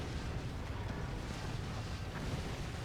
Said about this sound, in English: And I just continue bombing.